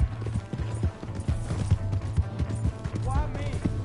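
Galloping horse hooves in Red Dead Redemption 2, a steady repeated clip-clop rhythm running throughout, moderately loud beneath game voices and background sounds.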